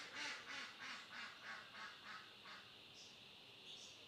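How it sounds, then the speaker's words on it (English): Repeated duck quacks in a steady series, about eight calls in a row, moderately distant, with a faint higher call near the end. "It looks like my neighbour's got some sort of big duck thing."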